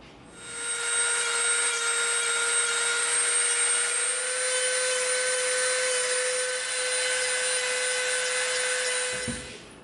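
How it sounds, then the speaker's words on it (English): A Dremel rotary tool whines steadily at high speed as it smooths a piece of EVA foam, one continuous close, loud run of about nine seconds with no talking. "now we're gonna come around this piece and we're gonna clean up a little bit with our Dremel"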